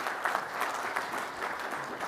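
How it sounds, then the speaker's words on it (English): An audience at a military strategic landpower symposium claps in steady, dense applause that carries on evenly for a couple of seconds. "Please join me in a round of applause and welcome."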